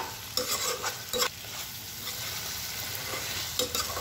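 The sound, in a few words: frying spices with yogurt in a pan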